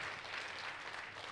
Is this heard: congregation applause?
yes